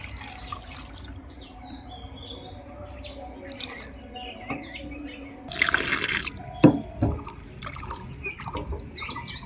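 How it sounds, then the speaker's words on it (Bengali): Two whole fresh eggplants are washed in water, with a short burst of splashing and dripping midway, while birds chirp and tweet softly in the background. "আমি এই গোটা থাকতেই বেগুন দুটোকে ভালোভাবে কষলে ধুয়ে নিচ্ছি।"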